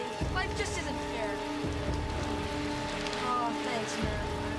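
Rain falls steadily on surfaces in a scene from a Goosebumps episode, a constant soft hiss beneath people speaking and a musical score.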